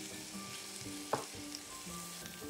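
Korean blood sausage stir-fries with perilla on an induction grill, giving a faint, steady sizzle with soft stirring scrapes and one brief utensil clack.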